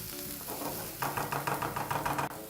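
Onions sweating in a pan for a traditional Kenyan mukimo, a steady close sizzle with rhythmic scraping and stirring strokes from a spoon.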